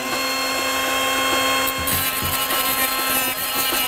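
A power tool cutting an air intake duct for an LS engine build: a loud steady whine with a constant tone, joined midway by grinding, rasping contact noise, close up and continuous.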